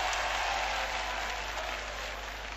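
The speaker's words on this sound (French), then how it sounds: "Je nommais notre frère Malamine Kone, que je vous demande d'applaudir très fort." Festival crowd at an arts and culture biennale in Sikasso, Mali, clapping in a broad continuous wash of applause, fairly loud and steady, slowly fading over under three seconds.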